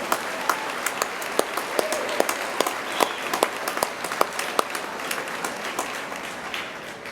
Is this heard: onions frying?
no